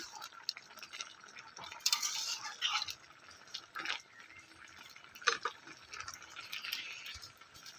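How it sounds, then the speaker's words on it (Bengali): A utensil stirs fried puti fish into bottle gourd curry in a pan, giving soft wet scrapes and clinks in uneven strokes, close and moderately quiet, with no voice. "পুঁটি মাছটা দিয়ে আমি আবারও একটু নাড়াচাড়া করে নেব"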